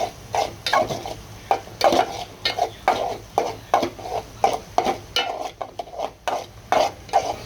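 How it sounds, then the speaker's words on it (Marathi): Onions with turmeric and salt stirred in a pan, a spoon scraping in a steady repeated rhythm of about a dozen strokes over a soft sizzle, close and clear with no talking. "आपल्याला हळद आणि मीठ दोन्ही टाकायचे आणि हे दोन्ही चांगलं मिक्स करून घेऊया"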